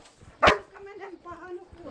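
A small dog lets out one sharp, close bark during a police evacuation of residents from frontline Beryslav, followed by whimpering under a person's talk.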